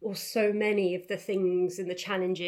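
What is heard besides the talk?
None of the usual background noises is heard.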